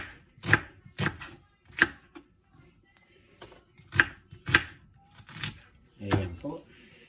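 An onion being sliced on a cutting board in a series of crisp, separate knife strokes, close and fairly quiet, with soft background noise between cuts.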